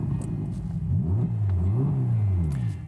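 A Ferrari Roma Spider's engine revs up and down in a few rising and falling sweeps, a deep throaty roar heard close and loud with no voices over it.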